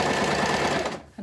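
Sewing machine stitching a fabric shopping bag, a fast, loud, even whirring run of stitches that slows and stops near the end, with no talk.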